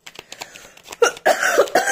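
A woman's coughing fit, several rough bursts clustered together, close and fairly loud, with softer breathy sounds before them.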